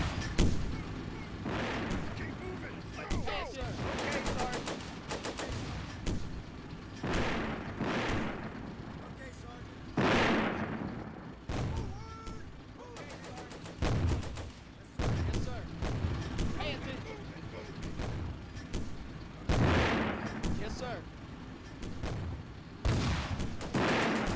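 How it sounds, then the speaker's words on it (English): Artillery bombardment in the Combat Mission video game, with repeated heavy booms and blasts rolling at irregular intervals throughout, a dense barrage of explosions. "We're bombarding here. And we're bombarding here."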